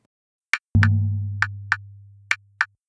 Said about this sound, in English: So it just kind of sounds like a bass hit. It doesn't really have much to it.